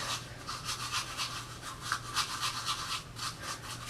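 Makeup brush being cleansed, rapid rhythmic bristly scrubbing strokes repeating close up and fairly quiet, with no talking.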